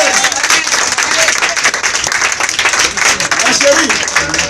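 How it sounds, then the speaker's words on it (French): A church congregation claps enthusiastically during a prophetic service, loud and uneven applause with cheering voices and a speaker talking over it. "Applaudissez encore."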